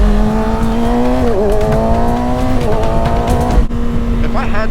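A 2021 Kawasaki Ninja ZX-6R 600cc sportbike engine revving hard and pulling through a gear, with a loud, steady high-pitched whine, a brief dip, then climbing again.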